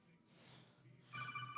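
A phone strapped to someone's ankle begins ringing partway through, with a bright repeating electronic tone cutting in after a quieter stretch of faint room noise.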